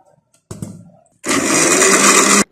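A kitchen blender whirs loudly and steadily for about a second, blending a dry fruit milkshake with figs, nuts and honey, after a few brief clinks and handling noises.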